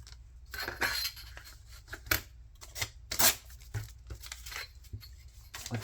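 Paper being torn by hand for trash-made journaling cards, a series of short, crisp ripping bursts scattered irregularly over a low steady background hum.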